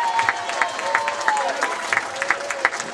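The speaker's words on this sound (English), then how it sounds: "Let's have a nice round of applause from Holyoke's own Jeremiah Torres." A crowd at a Marine boxing bout claps in a short round of applause. The patter is uneven and moderately loud, with a voice ringing faintly over it for about three seconds.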